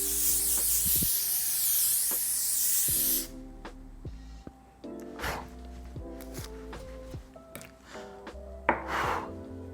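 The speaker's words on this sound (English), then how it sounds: "I'm gonna grab this Seal It spray" Seal It setting spray mists onto a face in one steady, loud hiss lasting about three seconds, followed by quiet handling noises and soft breaths.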